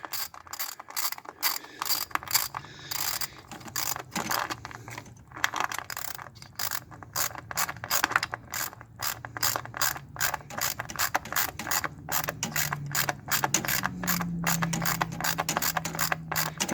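A ratchet wrench clicks rapidly and steadily while tightening an ignition coil bolt on a 2011 Chevy Traverse 3.6L engine, close up with a continuous run of sharp pawl clicks and brief pauses between strokes.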